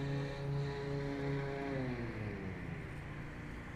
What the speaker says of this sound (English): My neighbor is cutting his grass